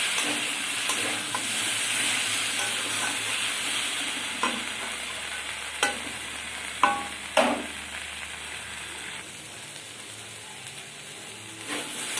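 Pointed gourd and shrimp fry in spiced oil in a village kitchen, a steady sizzle running throughout with sharp spatula scrapes and clicks against the pan scattered across the middle and near the end.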